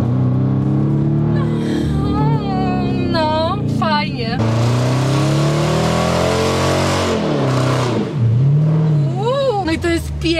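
A car accelerating hard with rising engine pitch, revving loudly through the gears up close, while people talk and exclaim over the engine noise.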